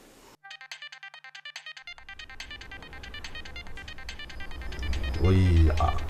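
A phone ringtone plays loudly as a repeating electronic melody of bright pulsed tones, continuing under rising background noise and a low rumble near the end.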